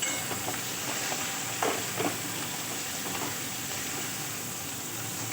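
Potatoes frying with turmeric and tomato in a pan give a steady, close sizzling hiss, broken by a few soft stirring scrapes, with no voices.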